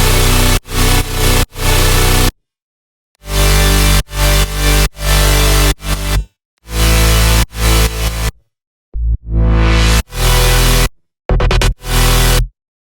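A dense synth chord stack layered with a super saw in an electronic music production, loud, bright buzzing stabs and held chords in rhythmic bursts separated by sharp cuts to silence.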